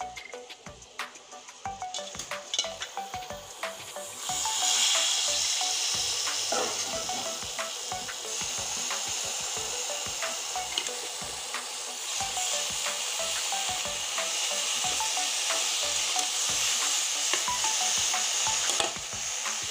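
Pumpkin greens sizzle and fry in a hot pan with turmeric while being stirred, a steady close hiss with scraping spoon strokes that swells louder after the greens go in and keeps going throughout.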